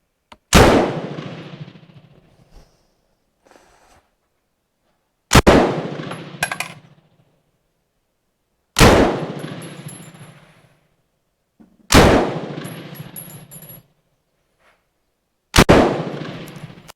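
Bren MK2 machine gun firing HXP ammunition in five separate loud, close bursts, each a sharp crack followed by a short decaying rumble, spaced about three to four seconds apart with near silence between.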